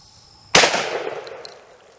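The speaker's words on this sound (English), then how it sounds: "Space age weapons are no match for the old scatter gun." A single loud shotgun blast from an old scatter gun, a sharp crack followed by a decaying rumble that fades over about a second, with no talking.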